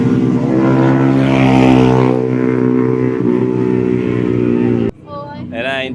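Big motorcycles roar past on a mountain road, a loud, steady engine drone that holds for several seconds, then cuts off abruptly as a higher revving whine takes over near the end.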